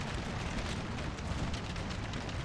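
Musket volleys crackle and boom in a Napoleon Total War American Civil War battle, a dense, continuous roar of overlapping shots with no break.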